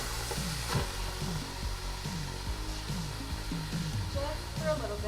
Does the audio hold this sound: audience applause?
no